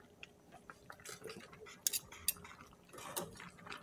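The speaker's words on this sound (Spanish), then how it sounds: "Entonces lo vamos revolviendo bien, bien, todo, que se incorpore bien con todos los sabores" A utensil stirring spaghetti in red sauce with sausages in a pot, quiet scraping and clinking taps at an uneven pace with a few sharper metallic clicks, and no talking.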